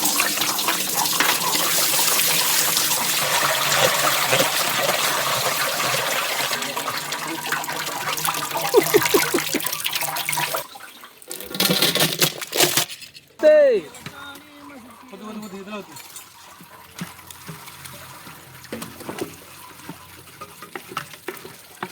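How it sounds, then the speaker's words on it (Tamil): Water pours out steadily in a loud, rushing stream for about ten seconds, then sputters and gurgles in bursts as the flow tapers off, with a voice talking over the later part. "இவ்வளவு தண்ணி வருது."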